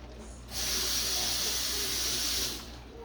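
Tomahawk steak hissing as it cooks: a steady, loud broadband sizzle rises after a quiet start, holds for about two seconds, then fades, with a low background hum underneath.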